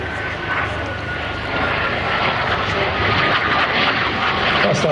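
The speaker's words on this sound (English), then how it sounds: "the Strike Master starting the air show itself off." A BAC Strikemaster jet opens an air show display, its engine roar building steadily and growing louder as it passes at moderate distance, with no speech over it.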